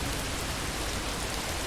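Steady rain falls in the video game Far from Noise, a dense, even hiss of drops that runs unbroken and fairly loud with no voices.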